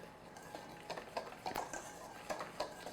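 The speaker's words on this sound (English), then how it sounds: "So I'm just using a whisk" A whisk stirs cocoa and coffee powder in a bowl for chocolate cake batter, producing soft, quiet, irregular scraping taps and clinks close by.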